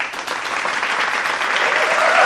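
A crowd applauds steadily during a live talk show, a dense wash of clapping that builds slightly in volume and plays alone without talk.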